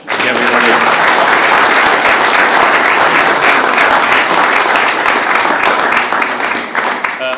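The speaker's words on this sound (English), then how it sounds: "more big round of applause for Alex" A conference audience at an ISCVE members' day gives a sustained round of applause, a loud, dense roar of clapping lasting about seven seconds before thinning out near the end.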